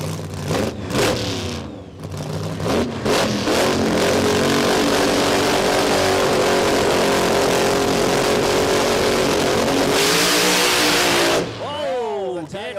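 A nitro drag racing car accelerates hard at Warwick Dragway in Australia, a loud sustained roar that builds and holds for several seconds before cutting off, with commentary heard before and after.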